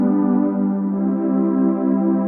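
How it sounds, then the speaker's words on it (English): A Roland GAIA SH-01 synthesizer plays a sustained single-tone pad, a warm steady chord that holds loud and close for over two seconds with a gentle wavering pulse and no voices. "This sound uses 1 tone."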